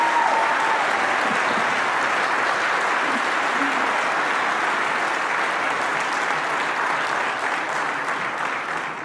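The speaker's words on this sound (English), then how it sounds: "can we give a huge round of applause for my team that works so hard to" Loud, sustained audience applause fills a town hall in Seattle, a dense steady wash of many hands clapping that holds for the full stretch and fades only slightly at the end.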